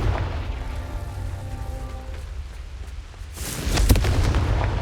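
A Confringo fire-blast spell explodes in Hogwarts Legacy, a loud booming blast with a crackling burst that follows a quieter stretch of low rumble and a brief tonal hum.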